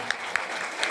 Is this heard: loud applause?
yes